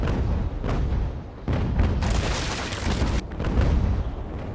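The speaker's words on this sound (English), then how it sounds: "Those 9-pounders ripping straight through the mast" Broadsides from 9-pounder cannons aboard a sailing warship in Ultimate Admiral: Age of Sail, shooting at an enemy ship's mast: several heavy, rumbling booms in overlapping bursts, one sharp crashing blast standing out midway.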